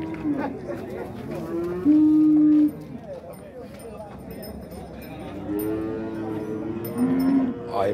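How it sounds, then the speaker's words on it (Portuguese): Cattle mooing at a livestock fair in Dois Riachos, Alabama, with several long low moos rising over a busy crowd murmur and nearby chatter. "a gente tá vendo que tem boi bonito aqui na feira"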